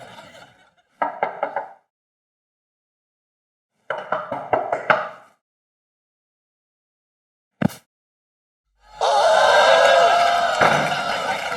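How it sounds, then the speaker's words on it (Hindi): Knuckles rap on a room door in a Hindi comedy scene: two short bursts of quick knocks separated by a pause, then a single sharp bang followed by a loud sustained noise. "हाँ तो खटखटा रहा हूँ"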